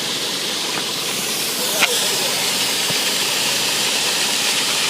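Water rushes steadily from a 1.8 inch nozzle on a 2.5 inch fire hose during a flow test, a loud, constant broadband hiss with one brief knock partway through.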